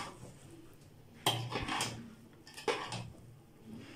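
A spoon scraping and knocking in a pot of Arabian mandi rice, two short clattering strokes a second or so apart, faint and close against a quiet kitchen.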